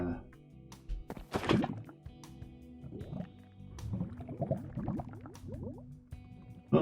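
Thick lava in a Minecraft SkyBlock modpack game, with bubbling, gurgling liquid pops that build up in a cluster of close, glugging splashes after a couple of sharp clunks.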